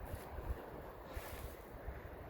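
Cold wind gusting across open Montana land, low rumbling buffeting on the microphone, faint and steady with soft thumps, no voices.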